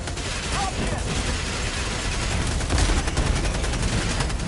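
Rapid, dense cannon-turret fire in Helldivers II booms continuously and loudly as a battle sound effect, the volleys overlapping with little pause.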